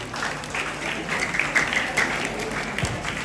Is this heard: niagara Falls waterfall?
no